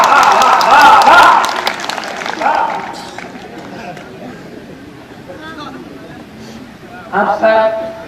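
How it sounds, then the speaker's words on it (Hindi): Dense applause from the audience at a Hindi comedy poetry gathering swells loudly at first, then thins and fades. A voice speaks over it, and another voice rises near the end. "दोनों हाथ में उठा करके तालियां एक बार"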